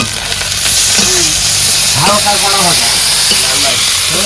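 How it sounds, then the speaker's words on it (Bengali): Fish fries in a pan with mustard paste to follow, a continuous loud sizzle and hiss under scattered voices talking nearby. "মাছগুলো তো দারুণ ভাজিছে একদম"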